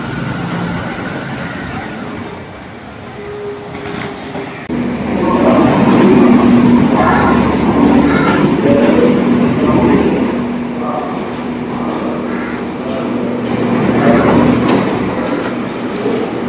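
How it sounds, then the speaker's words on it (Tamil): A train rumbles past nearby at night in Colombo, its steady roar swelling and lingering with faint clacking and hiss, loud and continuous throughout. "ட்ரெயின் போகுது பாருங்க"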